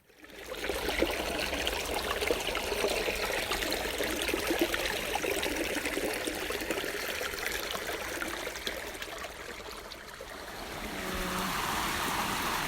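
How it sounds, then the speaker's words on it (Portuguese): A stream or river flows steadily in a recording, a continuous close wash of water with trickling detail, easing slightly near the end before swelling again. "É exatamente o fluxo da água, né? Os caminhos que vão descendo."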